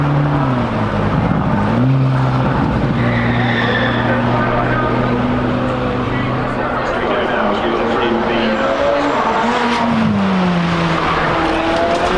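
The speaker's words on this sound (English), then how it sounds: "Super Series cars at the 720S are now coming up the hill" McLaren 720S supercars climb the Goodwood Festival of Speed hill, loud engines rising and falling in pitch as they accelerate past with brief tyre squeal, crowd and commentary chatter underneath throughout.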